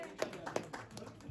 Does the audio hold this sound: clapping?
yes